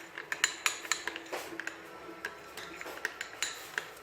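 A spoon mixing macedoine salad with mayonnaise in a bowl, a series of soft irregular clinks and scrapes, close and quiet, with short pauses between strokes.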